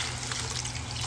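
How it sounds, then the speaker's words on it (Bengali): Water pouring steadily into a pan of spiced, sautéed chickpeas for chole, a continuous broadband rush with no voices. "এখানে দিয়ে দেবো জল।"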